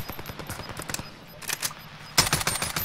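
Bursts of rapid automatic gunfire from the video game Call of Duty: Warzone, rattling in quick volleys with short pauses between them and a louder burst near the end, with no talking.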